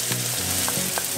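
Onion and garlic cooking in a pan for homemade pizza sauce, a dense continuous sizzle and crackle with faint stirring scrapes, close and steady throughout.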